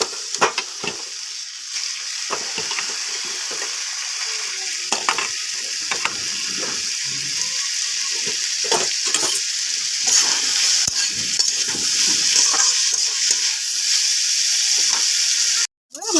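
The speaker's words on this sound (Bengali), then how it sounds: "এখন আমি এটাকে ভেজে নেব। এই দিয়ে দিলাম তেল কড়াইতে।" Bitter gourd frying in oil in a wok, a continuous loud sizzle with intermittent scraping and stirring clicks from a utensil against the pan, no voices.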